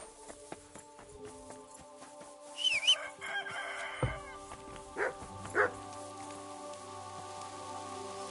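A dog barks a few sharp times in the middle, fairly quiet and somewhat distant, over a low background hum with faint bird-like chirps.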